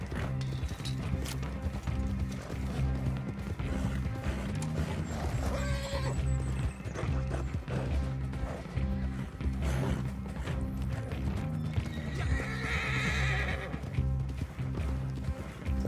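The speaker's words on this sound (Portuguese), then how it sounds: "O cavalo daqui a pouco vai perder o fôlego." Horse in the video game Red Dead Online galloping with steady hoof clatter and neighing, loud and continuous under dense game music and ambience.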